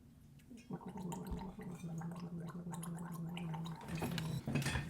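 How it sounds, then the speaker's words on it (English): A person gargles a mouthful of drink, a continuous close bubbling throat rattle lasting several seconds with a brief break near the end, no speech. "do some gargling"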